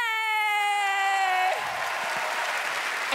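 After a sustained tone cuts off, a comedy show audience breaks into loud, dense applause that carries on steadily to the end.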